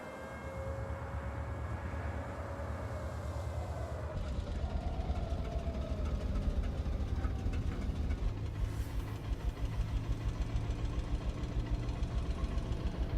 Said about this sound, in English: It sounds like an idling tractor mower.